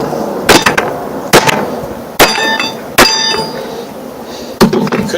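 A metal hammer strikes the end of a wire for building a wire car, flattening it. There are about six sharp, loud, ringing blows at irregular intervals over a quiet background.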